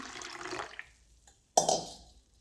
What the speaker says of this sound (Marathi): रवा धुण्यासाठी रव्यामध्ये पाणी ओतून घेऊ